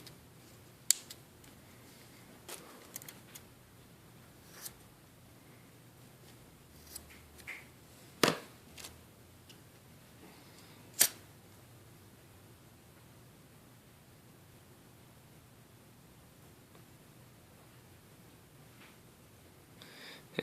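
Scissors trim a blue and yellow paracord Cobra stitch keychain: a handful of sharp, close snips and clicks scattered across a long, otherwise quiet stretch.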